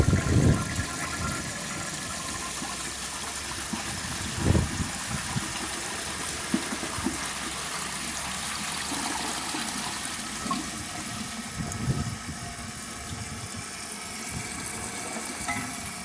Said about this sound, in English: And I'll show you guys a flush and then I'll do the tests.